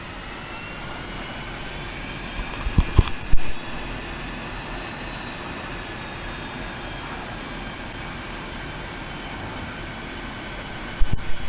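Su-25T jet engines spooling up in the DCS combat flight simulator, a steady loud turbine whine and rumble with rising tones, a few brief clicks and thumps partway through.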